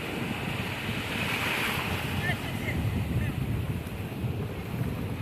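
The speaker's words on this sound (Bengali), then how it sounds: "দেখুন কি সুন্দর ঢেউ" Sea surf breaking on the sandy beach near Digha and Mandarmani, a continuous loud wash of waves mixed with gusting wind noise on the microphone, with a voice speaking faintly underneath.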